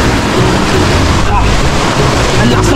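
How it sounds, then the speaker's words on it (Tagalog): Strong river current and waves rush loudly and continuously near a campsite in Gabaldon, a dense wash of water and wind noise. "Ang lakas ng alon."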